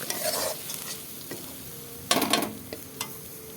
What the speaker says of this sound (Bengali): মশলাগুলো কষিয়ে নিই